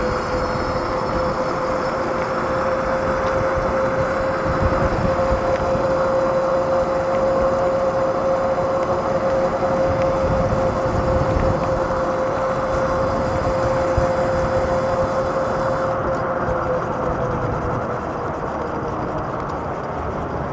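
An HJM Tri-Hauler Pro electric trike ridden at full throttle along a parkway, with a steady whine from the motor over constant road and wind roar that holds close and loud throughout.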